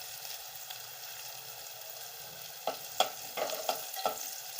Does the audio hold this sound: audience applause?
no